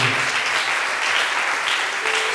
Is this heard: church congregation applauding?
yes